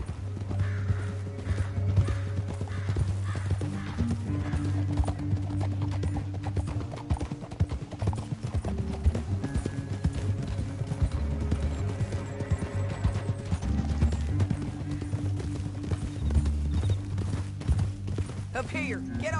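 Horses gallop with rapid, continuous hoofbeats in the Western video game Red Dead Redemption 2, loud and steady throughout, layered under a low musical score and occasional distant gunfire.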